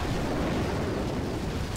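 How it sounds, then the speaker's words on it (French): Rocket launchers fire at Heavies in the video game Boom Beach, producing a dense, continuous rumbling roar of blasts and explosions, loud and close, with no talking. "il y a ces satanés lance-roquettes qui tirent sur ces malheureux gros bras"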